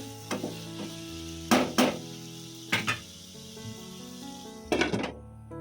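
Telangana-style brinjal curry with chili powder cooks in a pan, with a low, steady sizzle beneath several sharp, intermittent scraping stirs spaced a second or so apart.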